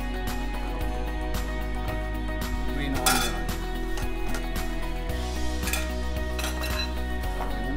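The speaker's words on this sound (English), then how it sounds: "all you have to do, cover your electric skillet" A lid goes onto an electric skillet with a few clinks of metal and cookware over a steady electrical hum, followed by light clatter at intervals.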